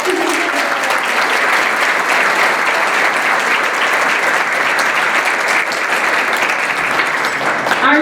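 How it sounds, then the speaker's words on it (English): Loud, continuous applause and cheering from an audience at a leadership institute graduation ceremony, a dense even wash of clapping that holds steady throughout without a break. "Now you can cheer."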